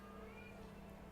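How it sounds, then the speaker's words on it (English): A pet cat meows faintly in an indoor room, one brief soft call heard alone over a steady background hum. "That's him meowing right now."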